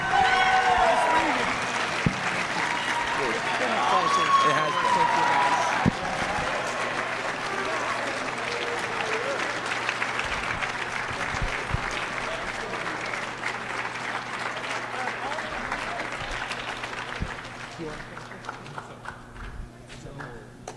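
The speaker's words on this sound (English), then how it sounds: "So one more round of applause for Miss Regan." Sustained applause from a crowd at a high school scholarship award assembly, loud and steady for most of the stretch before thinning toward the end, with a voice briefly heard over it.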